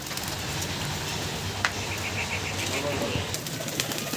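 Kaldam tumbler pigeons in a loft, with a brief wing flap and a soft run of cooing under steady background noise, close by.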